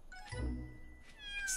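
A cat meows once, a drawn-out, fairly close meow, followed by a fainter, higher cry near the end.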